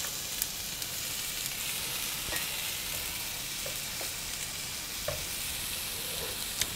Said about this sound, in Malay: beras ni saya dah rendam apa ni pagi tadi. Lepas tu saya toast.